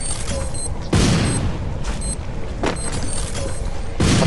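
Gunfire in a mobile shooter game played on an iPhone 8 during a tournament match, with several heavy, booming shot bursts at irregular intervals, loud and close, over a constant dense game background.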